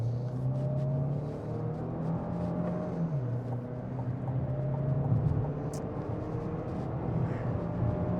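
A 2025 Chevy Equinox with a 1.5 liter turbocharged four-cylinder accelerates hard from a standstill. The engine drones steadily and climbs in pitch, drops briefly at a gear shift, then keeps rising, heard from inside the cabin.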